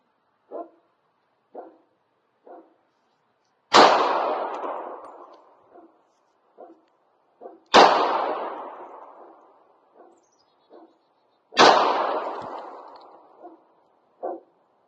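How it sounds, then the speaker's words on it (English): A Sig P226 pistol in .40 caliber fires at a target 12 yards away. Three loud shots come about four seconds apart, each with a long ringing decay, and faint short clicks and knocks sound between them. No one speaks. "we're shooting the Sig P226 in 40 cal"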